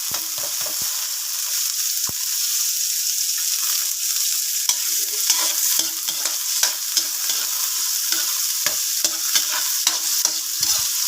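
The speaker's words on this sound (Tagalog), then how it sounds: "Pag nagigisa ako ng sibuyas at bawang dito guys, hindi ko talaga siya pinapasunog." Onion and garlic sauté in a pan with a continuous bright sizzle, broken by repeated scraping and stirring clicks from a utensil, close and fairly loud with no talking.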